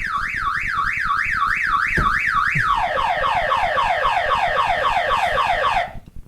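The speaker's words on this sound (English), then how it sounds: "Alarm." A car alarm wails loudly and close, sweeping up and down in a fast rising-falling siren, then switching to a quicker warbling pattern before cutting off abruptly.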